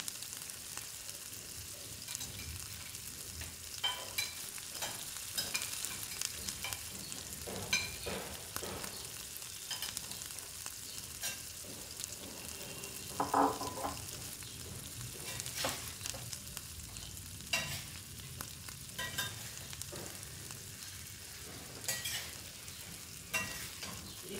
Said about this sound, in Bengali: কষানো মশলার সাথে মাছের মাথাটাকে একটু নাড়াচাড়া করে নিই